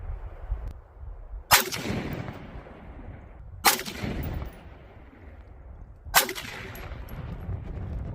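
Three loud, sharp rifle shots ring out outdoors at a target range, spaced about two seconds apart, each trailing off in a rolling echo.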